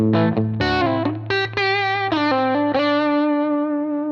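Electric guitar through a Wells amp model from IK Multimedia's Amp Vault, a quick distorted lick of picked and bent notes with a steady low drone beneath, close and loud with no talking.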